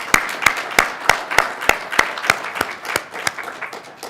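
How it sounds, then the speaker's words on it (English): Audience applause at an event introducing new learning resources on Sikh heritage, heard as a handful of sharp, evenly spaced claps in a steady rhythm, close and fairly loud, gradually softening toward the end. "I think he deserves a round of applause for doing that"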